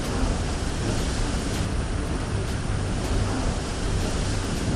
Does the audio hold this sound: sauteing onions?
no